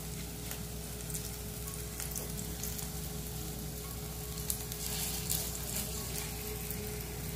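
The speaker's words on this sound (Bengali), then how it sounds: "বড়ার শেপ তৈরি করে আমি তেলের উপরে দিয়ে দিচ্ছি। তেলটা গরম হয়ে গেছে।" Drumstick flower fritters frying in hot mustard oil in a wok, a low steady bubbling sizzle with faint crackles, fairly quiet and close, no speech.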